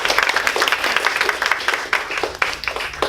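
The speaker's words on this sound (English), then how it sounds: "can we have another round of applause for Anna?" An audience applauds a speaker at a speech evaluation session with dense, brisk clapping that carries on steadily for a few seconds.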